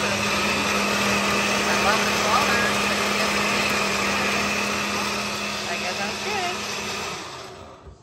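Continuous whirring motor of a blender mixing a strawberry and grape smoothie, steady and fairly loud with a high whine and humming tone, winding down at the end; voices chatter faintly underneath.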